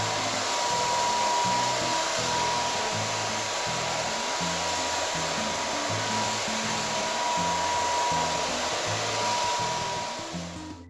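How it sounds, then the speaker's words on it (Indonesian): A hair dryer blows steadily and loudly on freshly dyed brown hair, a continuous airy roar with a faint whine that runs throughout with only slight fluctuation before easing off at the end. "dan kita akan mulai keringkan"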